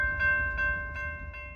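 A freight train gets underway after its brakes release, giving a sustained tonal drone with soft rhythmic pulses repeating about every 0.4 seconds, close and fairly loud, with no voices.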